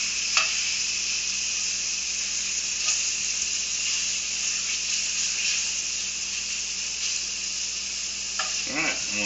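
Steak sizzles in butter in a hot pan, a steady, close hiss and crackle lasting the whole time, with a few brief scraping stirs as the meat is moved.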